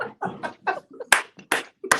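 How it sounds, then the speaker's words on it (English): Three sharp, evenly spaced claps land about every 0.4 seconds, near and fairly loud, after a run of softer voiced, chant-like sounds from a dance routine with a leg lift and boot shake. "3 claps."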